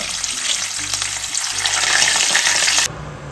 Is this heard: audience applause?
no